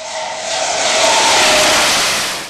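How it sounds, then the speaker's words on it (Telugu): A jet fighter roars low over a national highway used as an emergency runway, its loud broadband rush swelling quickly to a peak and then fading as it passes. "ఈ 5 విమానాల్లో 1 కార్గో విమానం కాగా మరో 4 జెట్ ఫైటర్లున్నాయి."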